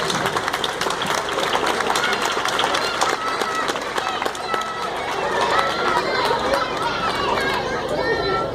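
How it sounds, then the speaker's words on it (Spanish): Crowd applause and chatter at an Asturian cider pouring championship, steady clapping mixed with voices and general hubbub, continuous and moderately loud throughout. "Para él ruego el primer aplauso de la tarde"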